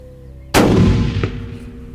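A single sharp 6.5 rifle shot fired at a hunted animal on a ranch, loud and close, followed by a rolling echo that fades over about a second.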